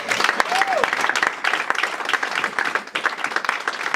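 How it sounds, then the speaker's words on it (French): A church congregation applauds during a French-language sermon, a dense, lively patter of clapping with brief sharper claps throughout and a short vocal sound near the start. "Est-ce que vous pouvez approuver son amour par les applaudissements?"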